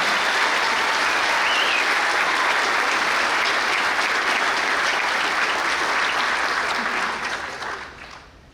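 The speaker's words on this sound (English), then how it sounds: "let's have one last round of applause and congratulate these graduates" Sustained applause from a large audience at an Ivy Day graduation ceremony, honoring the graduates; steady, dense clapping fills the space before fading out near the end.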